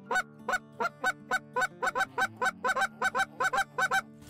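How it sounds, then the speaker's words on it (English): A handheld goose call is clucked slowly, about fifteen short sharp honking notes evenly spaced, each started and stopped with the tongue, close and loud with no talking. "start and stop every note, basically with the tip or the middle of your tongue, something like that, and cluck like that, and then just build speed"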